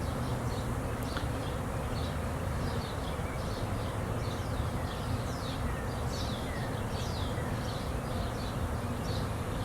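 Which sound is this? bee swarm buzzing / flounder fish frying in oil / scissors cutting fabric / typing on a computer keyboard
bee swarm buzzing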